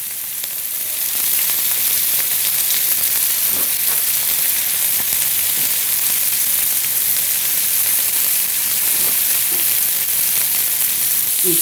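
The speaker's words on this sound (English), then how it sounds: "leave the meat 1 minute on the hot grill without touching it, so that it cooks even" Tandoori lamb chops sizzle on a hot grill, a steady dense frying crackle with occasional pops, loud and close, continuing unbroken with no talk.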